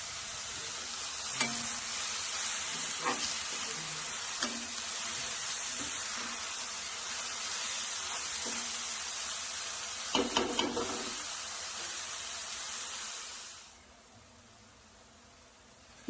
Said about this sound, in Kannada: ಈರುಳ್ಳಿ ಕಂದು ಬಣ್ಣ ಬರೋವರೆಗೂ ಚೆನ್ನಾಗಿ ಹುರ್ಕೋಬೇಕು ಎಣ್ಣೆಯಲ್ಲಿ